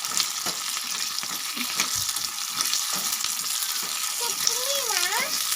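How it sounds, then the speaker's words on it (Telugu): Tempering spices crackle and sizzle in hot oil in a pan for ivy gourd and peanut chutney, a steady fry with faint stirring scrapes, heard alone without voices. "పోపు బాగా వేగింది కదా"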